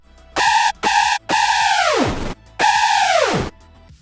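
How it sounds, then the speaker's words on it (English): Xfer Serum synth screech with hyper dimension, maxed detune rate and seven voices: four loud, bright held notes, the two longer ones swooping sharply downward in pitch at their ends, with short gaps between them and no voices. "sounding a lot like a screech"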